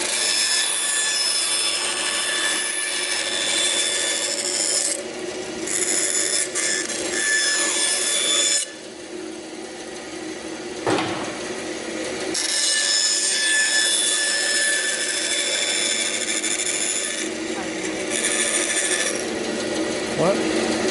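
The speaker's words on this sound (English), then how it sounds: "So use the bandsaw." A bandsaw cuts through wood in a woodturning shop, its blade whirring with a continuous rasping, rubbing drone that briefly drops out twice before resuming, steady and fairly loud throughout.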